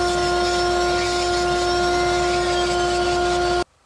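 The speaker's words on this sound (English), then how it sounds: "I will use a less aggressive bit, and we will carve these down to their final shape." A power tool with a rotary bit carves a 3/4 inch pine branch, giving a steady, loud whine with a sustained pitch that runs evenly and then stops abruptly near the end.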